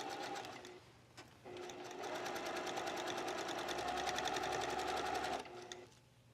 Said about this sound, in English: Just stitch all the way around here.